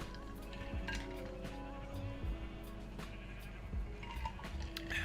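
Sheep bleat in the Minecraft video game, with several short bleats scattered over a busy game soundscape of clinks and background tones, at moderate loudness and with no talking.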